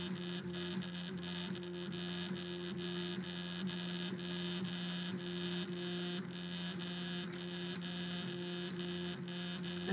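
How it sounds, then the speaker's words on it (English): A Prusa Mendel 3D printer prints a test cube, giving off a steady electrical hum with layered stepper-motor tones and soft rhythmic pulses that repeat evenly throughout at close range. "That's a 3D printer at work."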